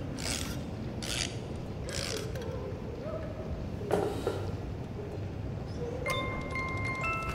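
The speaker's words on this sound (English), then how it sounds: "A music box." Repeated mechanical ratcheting clicks of a music box crank being wound in the game Bendy and the Dark Revival, in short bursts, followed by a few high tinkling notes at the end.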